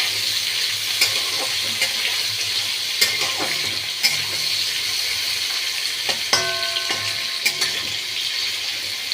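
Okra and potato frying in a pan for a vegetable curry, a steady close sizzle with occasional stirring clicks and scrapes, no talking.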